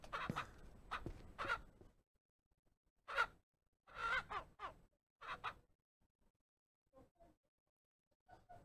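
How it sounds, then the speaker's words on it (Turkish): Chickens in the Ranch Simulator farming game give short clucks and squawks in scattered bursts, fairly close, with quiet pauses between calls and no talk. "Şu tavukların götünden yumurtaları topla."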